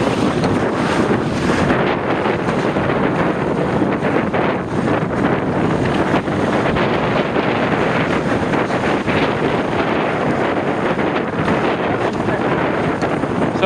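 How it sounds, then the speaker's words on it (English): Strong, steady wind roars and buffets across the microphone while sailing off Poppit, loud and constant throughout with no clear pauses. "the wind's so intermittent"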